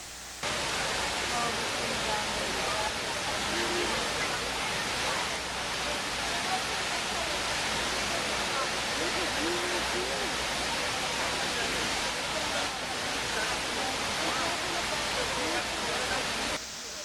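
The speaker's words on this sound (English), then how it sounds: "watch the water continuously get sucked down into the depths of the earth" Water pours steadily into the Twin Towers footprint pools at the 9/11 memorial at Ground Zero, a dense, unbroken rushing roar like a waterfall, loud and even throughout with no break.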